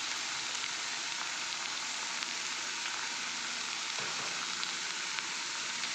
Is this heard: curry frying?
yes